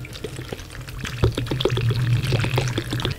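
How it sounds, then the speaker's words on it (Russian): Plain water is poured over an orchid potted in bark only, a close gurgling splash with bubbly trickles and drips running steadily. "Поэтому я еще беру обычную воду и проливаю как можно больше."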